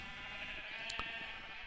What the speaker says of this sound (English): we got the grays, we got the whites and the black sheep